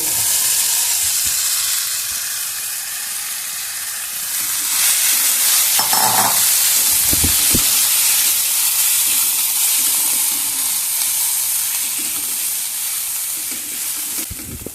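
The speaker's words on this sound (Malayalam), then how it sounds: "ഇനി നമുക്കത് കുതിർത്തി വെച്ച പൊരി ഇടാം." Soaked puffed rice (pori) for upma hits a hot pan with a loud, steady sizzle, with scraping and clattering of stirring through the ongoing hiss.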